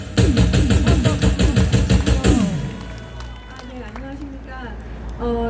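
A crowd at an outdoor rally in front of the presidential office claps loudly and rhythmically for about two seconds before the applause fades into background chatter and scattered voices.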